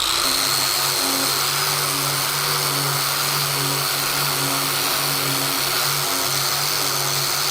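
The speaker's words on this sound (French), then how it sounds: "les brosses coupes sont parfaites pour dérouiller les tôles plates" A drill spins a wire cup brush across flat rusty sheet metal, giving a loud, steady, continuous whine and scraping hiss that holds unbroken throughout, with no talk.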